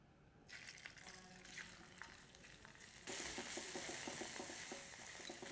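Pork mince frying in a heated clay pot: steady soft sizzling and crackling that starts after a brief quiet moment and turns louder and denser partway through, heard close with no talking.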